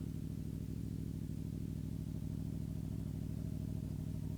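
A 2013 matte-finish motorcycle rolling in neutral, producing a steady low-pitched engine drone with an even pulsing throb, continuous and fairly close with no voices over it.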